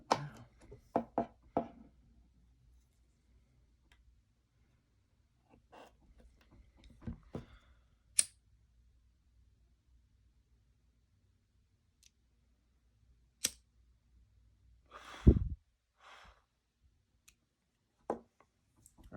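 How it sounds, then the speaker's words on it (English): Paracord ends being cut, a sparse series of soft snips and clicks spread over quiet stretches, close and faint with a few louder handling knocks. "Let's actually just give those a cut now."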